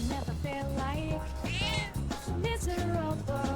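A cat meows repeatedly in Persona 3 Reload, several short, clear mewing calls over steady, rhythmic game background music, no voices.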